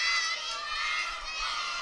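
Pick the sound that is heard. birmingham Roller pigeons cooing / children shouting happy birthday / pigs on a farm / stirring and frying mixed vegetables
children shouting happy birthday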